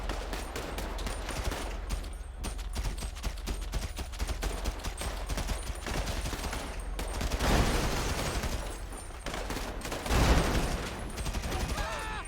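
Rapid AK rifle fire in a video game, dense repeated bursts of close shots running almost continuously, with heavier blasts near the middle and end and some talking mixed in.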